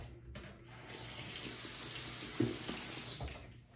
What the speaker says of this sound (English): Can't believe I left my water running